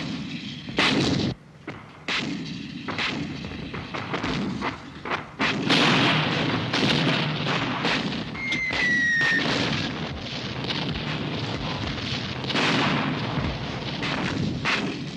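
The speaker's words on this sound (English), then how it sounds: "Zulu Tango, 2860, at my command, 7 rounds, fire for effect, over" Artillery battery firing for effect, a rapid string of heavy booming rounds with rolling blasts and echoing rumble, loud and dense across the whole stretch, no voices.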